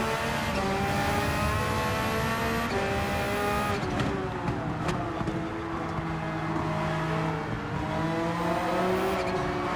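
Race cars in Gran Turismo 7, including a Ferrari 458 Italia, roar around a track with engines revving through gear changes, tires squealing, and other cars passing close by, with no talk.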